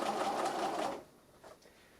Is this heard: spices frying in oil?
no